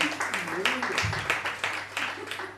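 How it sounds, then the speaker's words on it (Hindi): An audience claps at a hosted stage event, a steady patter of hands lasting the whole stretch at moderate loudness. "तो एक बार जोरदार तालियां आज के दिन के लिए"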